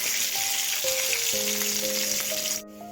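Crushed garlic and chili, added after mustard seeds for a white radish sambar, sizzle loudly and continuously in hot oil under a soft melodic backing, then the sound cuts off abruptly near the end.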